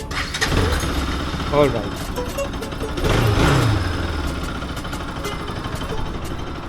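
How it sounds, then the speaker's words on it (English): A Bajaj RS200 motorcycle engine, just repaired with a new stator coil and regulator-rectifier, cranks and fires up, then settles into a steady close idle, with a voice speaking briefly over it. "So as you can see, the bike is on, the bike is running."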